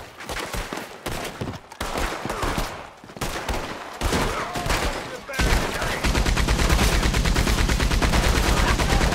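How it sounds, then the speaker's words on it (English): A Gatling gun fires in Red Dead Redemption 2. Loud bursts of gunfire and booming shots come first, and then a continuous rapid, rattling stream of rounds takes over for the last few seconds. "Let's use the Gatling gun now."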